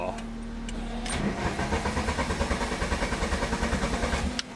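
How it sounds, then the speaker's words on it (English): A Volkswagen Cabrio engine cranks with a rapid, even whirring chug over several seconds, close and loud, then catches briefly near the end; a voice speaks over the start. "Let's see if we can crank it up real fast again."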